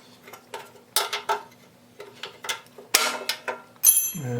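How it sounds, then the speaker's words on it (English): Metallic clicks, scrapes and ratcheting taps come from a wrench loosening two nuts on the blade access plate of a DR Pro 400 wood chipper, in irregular bursts up close with brief pauses between. "Let's just loosen these 2 nuts right here"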